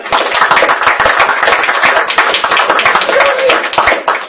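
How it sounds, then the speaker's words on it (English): A large award-ceremony audience applauds loudly and steadily for about four seconds, a dense wash of overlapping hand claps with no pause. "One more round of applause."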